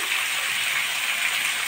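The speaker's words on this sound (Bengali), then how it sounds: "পটলটাও আমি ভালো করে ভেজে নেব" Pieces of pointed gourd (potol), seasoned with salt and turmeric, fry in a pan with a steady, even hiss of sizzling oil that holds unbroken for a brief moment.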